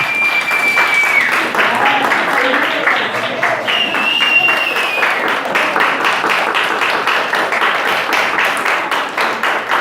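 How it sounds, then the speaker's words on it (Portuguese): Sustained, dense applause from an audience at the close of a talk about spiritism in a film, loud and steady throughout with crowd voices mixed in. "Olha, um aplauso."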